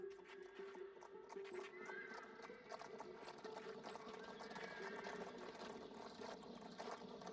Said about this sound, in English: Oh, we do have some horses.